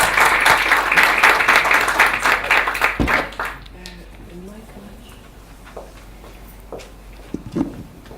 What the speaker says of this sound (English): which I believe deserves a warm round of applause